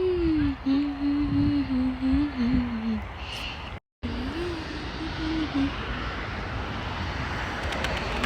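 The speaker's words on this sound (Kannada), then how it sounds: "ಎಷ್ಟೊಂದು ಫ್ಲೈಟ್ ಹೋಗ್ತಾ ಇದೆ" An airplane passes over a cold beach in a steady broad drone, with wind and surf noise beneath and a voice talking over part of it.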